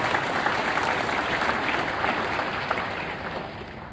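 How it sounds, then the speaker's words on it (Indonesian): A crowd gives loud, hearty applause for Benny Ramdhani at an Indonesian gathering, a thick continuous wash of clapping that holds steady and tapers slightly toward the end. "Tepuk tangan yang meriah buat beliau."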